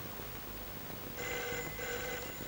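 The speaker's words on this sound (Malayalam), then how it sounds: "നീ ആ ഫോൺ എടുക്ക." A telephone bell starts ringing partway through, two bursts of electronic trilling over low background hiss, fairly faint and somewhat distant.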